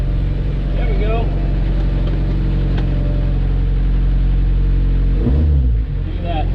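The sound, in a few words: Suzuki Samurai engine starting and revving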